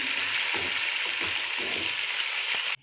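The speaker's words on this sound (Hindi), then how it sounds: "तो इसको मैं अब फ्राई करूँगी 1 मिनट के लिए इसमें अदरक लहसुन के पेस्ट में" Ginger-garlic paste fries in a pan for green masala chicken, giving a loud, even sizzle with soft stirring scrapes underneath until the hiss cuts off abruptly at the end.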